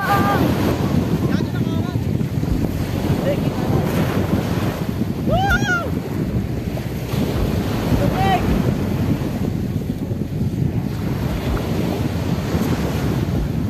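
Sea waves and gusting wind roar steadily into the microphone at the beach in La Union, Philippines, with a few brief voices faintly heard underneath.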